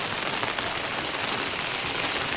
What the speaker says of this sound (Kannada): ಮಳೆ ಮಳೆ ಮಳೆ ಮಳೆ